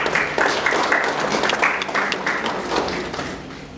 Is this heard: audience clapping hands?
yes